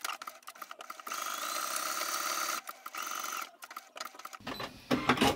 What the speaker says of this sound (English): we need to back stitch at the start and at the end of each little bit so that it doesn't rip open